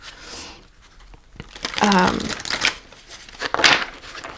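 Tarot cards being shuffled and handled, with several bursts of riffling and flicking paper under a person talking.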